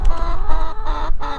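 A farm chicken clucks loudly and close in a quick run of sharp repeated calls, heard alone.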